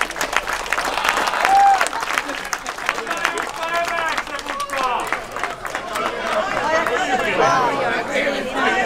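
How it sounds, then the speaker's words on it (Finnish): Audience applause at a Last Man Standing comedy event at Inkoo's chili festival, a crowd clapping and cheering with lively chatter and whoops mixed in, loud and close, rising and falling over several seconds. "Annetaan aplodit vielä."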